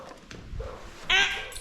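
A dog barks and whimpers indoors in short yips, one louder bark near the end, in a brief burst close to the microphone during training.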